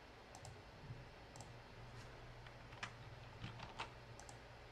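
Computer keyboard tapped for hotkeys during CAD work, a few faint, sparse clicks over a low steady room hum.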